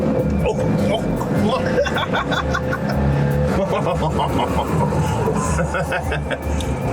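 An Italian-made rear-engine BMW hums and whirs as it drives, the engine note steady and fairly subdued. People talk throughout over the car noise.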